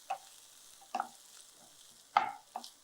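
Plantain masala ingredients sauté in a hot pan, heard as four short, close bursts of stirring and sizzling separated by quiet gaps.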